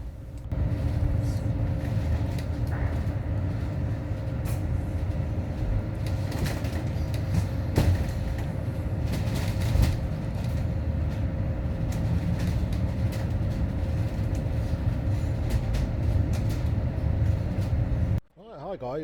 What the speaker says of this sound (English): we're now at Coventry's Pool Meadow Bus Station